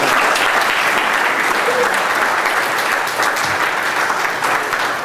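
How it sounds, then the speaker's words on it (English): Loud, sustained applause from an audience at a school Black History program fills five seconds, dense clapping from many hands with faint crowd voices mixed in. "Let's give them both another round of applause."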